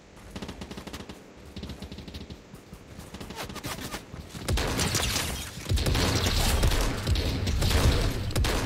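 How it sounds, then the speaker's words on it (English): Heavy gunfire in a Fortnite Chapter 3 match: lighter scattered shots at first, then loud, dense automatic bursts that swell into a sustained barrage near the listener. "A lot of gunshots."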